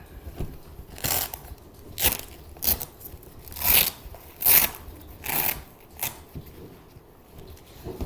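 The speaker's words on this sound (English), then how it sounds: "This one just has a Velcro casing. So we'll open that up." Velcro on a lifejacket's casing rips open in a series of about eight short, rasping tears spaced irregularly, close and fairly crisp against a quiet background.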